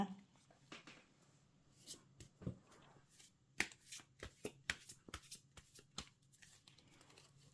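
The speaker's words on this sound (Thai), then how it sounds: "ขอเป็นตัวแทนสับไพ่ตัดไพ่ให้คนเกิดวันเสาร์ค่ะ" Tarot cards being shuffled and cut by hand: soft, quiet riffles and sharp little card slaps in irregular bursts, close by and alone.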